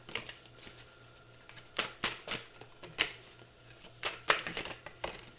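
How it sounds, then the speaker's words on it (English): A deck of oracle cards is shuffled by hand close up, with repeated sharp riffling bursts and softer sliding rustles in an irregular rhythm, quiet and unaccompanied by speech. "I'm just going to shuffle here quietly for a moment while you think of your power animal."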